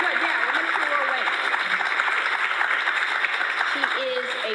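Audience applause at a student citizenship challenge event, with continuous clapping from a crowd while a voice speaks over it throughout.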